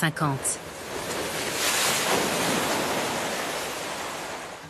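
Large artificial waves rolling through a research wave channel built to form waves up to 4.5 metres, a loud steady roar of surf and rushing water, with brief voice sounds at the very start.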